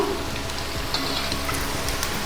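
Small rava-maida bonda balls frying in hot oil, a continuous fine crackle and sizzle close by, with no talking.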